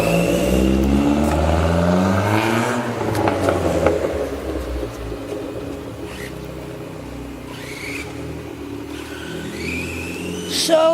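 Remote control car racing fast, its whiny electric motor rising and falling in pitch as it speeds past, with people talking and calling out over it.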